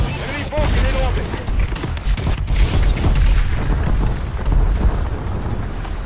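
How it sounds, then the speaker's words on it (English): Heavy bombing-run explosions in Call of Duty: Advanced Warfare multiplayer rumble as a dense, continuous barrage of booms and blasts, loud and close, with no clear gaps over several seconds. "Friendly bombing run incoming."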